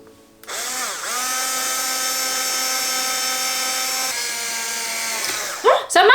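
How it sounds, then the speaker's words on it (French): An electric drill bores holes in a plastic lemon Volvic bottle: a loud, steady whine that starts abruptly, holds for several seconds, dips in pitch once, then cuts off before brief voices. "On va faire 2 trous ici. Pour ça j'ai pris une perceuse."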